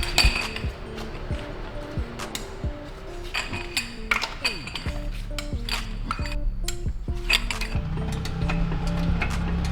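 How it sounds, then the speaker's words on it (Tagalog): Wheel removal on an Isuzu Crosswind, with ratcheting wrench clicks, metallic clinks of lug nuts and tools, and mechanical rattles repeating up close across the whole stretch. "Okay, simulan natin to. Kalasin natin gulong."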